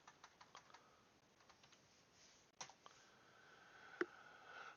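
Keystrokes on a computer keyboard come as a scattering of quiet, close taps, with a brief pause and a sharper clack near the end. No one speaks.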